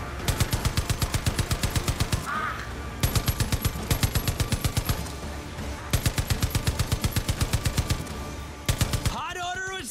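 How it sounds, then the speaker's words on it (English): High-powered machine gun in Far Cry 5 firing loud rapid bursts, four long strings of evenly spaced shots separated by short pauses, with a voice briefly audible over the shooting. "A fucking high-powered machine gun?"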